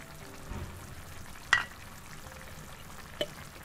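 Puti fish chorchori cooks in mustard oil in a pan with a soft, low sizzle, broken by two sharp clicks of a utensil or lid.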